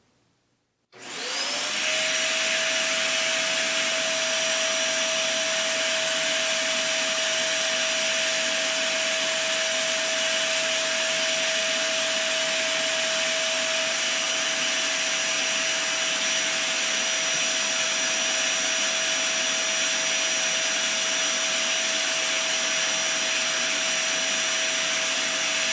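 A roughly 1200-watt household vacuum cleaner switches on and runs loudly and steadily with a constant whine, alone and uninterrupted throughout.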